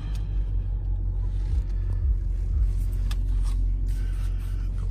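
A 2018 Dodge Durango SRT fitted with Mopar lowering springs drives along, its steady low engine and road rumble droning continuously throughout at moderate level, with no talking.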